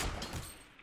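A gunshot hit in Fortnite, a short sharp burst with a thudding low end that quickly fades into quieter game noise.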